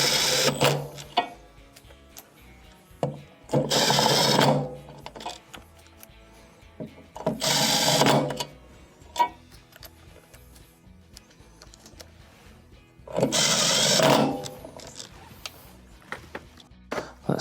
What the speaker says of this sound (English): Insert our first screw and go ahead and reinstall the others.